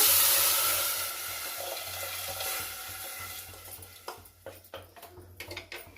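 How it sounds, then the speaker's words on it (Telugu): Water is poured into a hot pot of ghee while making ginger pongal, giving a loud sizzling rush that fades over the first second or two, followed by quieter bubbling and a few sharp utensil clinks, with no talking. "మనం నీళ్ళు వేసి పెట్టుకున్నాం కదండి వేసేస్తాము"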